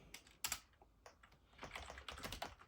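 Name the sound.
typing on a computer keyboard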